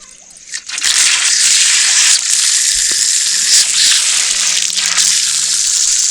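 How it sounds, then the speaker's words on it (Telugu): Spring water pours down from a hillside beside a tribal village home, making a loud, steady rushing hiss that starts abruptly and carries on unbroken, with no voices. "అలా కొండ నుంచి కిందకి అయితే వాటర్ వస్తున్నాయి"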